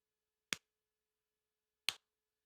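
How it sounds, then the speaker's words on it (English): Two sharp, isolated hand claps about a second and a half apart, close and crisp against near silence, made as an audio-video sync test. "my hands came together at the same time you heard the clap"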